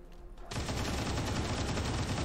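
Rapid, dense gunfire from an XCOM 2 soldier's rapid-fire attack, a continuous loud rattling burst that starts abruptly after a brief quiet moment and keeps going without pause.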